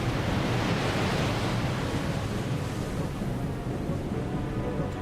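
Ocean surf roars in a steady, loud broadband wash with no distinct breaks, set in the Sunda Strait near the Krakatoa eruption, where shock waves raise huge crests of water.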